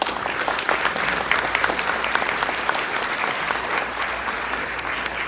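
Audience at a community gala breaking into warm, sustained applause, many hands clapping densely and evenly for several seconds with no voices on top.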